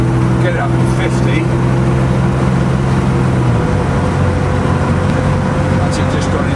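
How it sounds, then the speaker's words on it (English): A 1967 Alvis with automatic transmission and an added overdrive drives along a road, a steady engine drone whose pitch drops as it shifts into top gear, with road and wind noise throughout. "That's it, just gone into top gear now."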